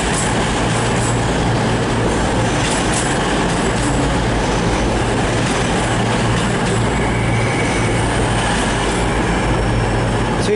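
CrossCountry passenger train, locomotive 22028 on a Plymouth to Glasgow Central service, arriving at Newcastle station on the East Coast Main Line, a loud continuous rumble and rail roar with faint wheel squeal, close and unbroken.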